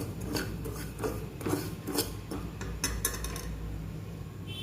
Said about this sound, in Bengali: আস্তে আস্তে আমরা একটু সুজিটা নাড়িয়ে নিচ্ছি